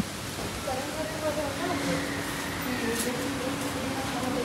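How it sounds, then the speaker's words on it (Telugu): Steady rain falls during a morning stay in Goa, a constant close hiss filling the whole stretch, with faint voices murmuring underneath. "వర్షం పడుతుంది"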